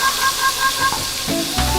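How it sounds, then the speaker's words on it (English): Butter sizzling in a frying pan while cooking a green omelette, a loud, close, continuous hiss for a couple of seconds with a low thump near the end, no talking. "First, we're going to put some butter in the pan."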